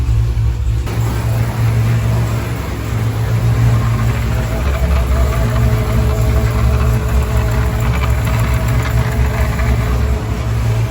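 A modified Jeep Trackhawk making around 1500 horsepower runs with a Whipple supercharger and E85 fuel, a loud, steady low engine drone with a constant idle rumble close by for the whole stretch.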